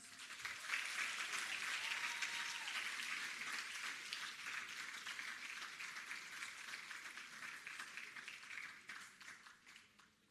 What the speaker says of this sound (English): Let's continue with the applause.